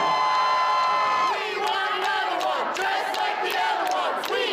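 A packed stadium crowd roars and cheers after a Kansas City Current goal in women's soccer, a loud, dense, sustained wall of shouting and whooping with scattered individual yells cutting through.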